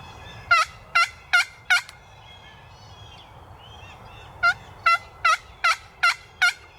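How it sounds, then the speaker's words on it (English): Wild turkey toms gobble on opening day of the Indiana spring season, four quick gobbles in a row, a pause, then a second run of about six, fairly close and clear over a low, quiet outdoor background. "we heard them gobble again way over there"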